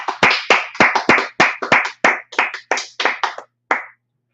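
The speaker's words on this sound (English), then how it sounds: "let's clap it up real quick." A small group claps hands in unison, about a dozen crisp, close claps in a steady beat that slows slightly and ends with one last clap.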